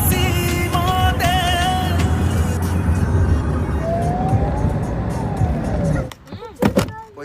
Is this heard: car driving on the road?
yes